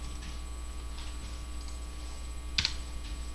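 A brief double keystroke on a computer keyboard while typing a semicolon into code, sharp and close over a steady electrical hum, with otherwise quiet surroundings.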